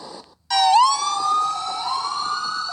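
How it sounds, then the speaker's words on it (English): A loud emergency vehicle siren wails close by on 7th Street near Market, rising then holding a steady high tone, with no voices. "it wasn't long before we heard sirens"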